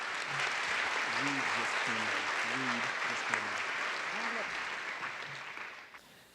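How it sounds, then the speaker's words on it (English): A crowd applauding steadily, a dense wash of clapping that fades out at the end, with a voice speaking over it. "I'd like to be able to have another round of applause for all of them."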